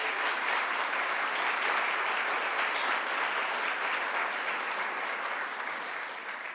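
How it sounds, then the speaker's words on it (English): Sustained applause from a large audience at a city State of the City event, greeting the councillors and the mayor, with dense, even clapping that holds steady and tapers slightly toward the end. "So round of applause for all that you do."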